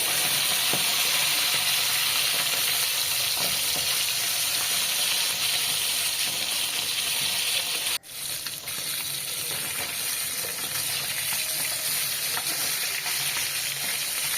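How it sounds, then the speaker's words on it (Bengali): Tilapia fish pieces fry in hot mustard oil with a loud, continuous sizzle and crackle, close by. A brief sharp knock comes partway through, then the frying carries on steadily. "তেলটা গরম হয়ে গেছে এক এক করে এবার মাছগুলো দিয়ে দেবো তেলের ভেতরে"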